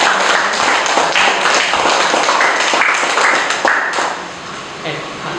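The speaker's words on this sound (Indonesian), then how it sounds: "kita berikan aplaus dulu" Classroom applause for a student group after their answer, a loud dense spread of clapping from many hands that holds steady and then thins toward the end, with voices mixed in.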